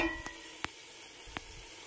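Tomatoes frying in a covered pan with potatoes, giving a soft, steady sizzle and a few faint clicks of a lid or spoon, quiet and close, with no voices.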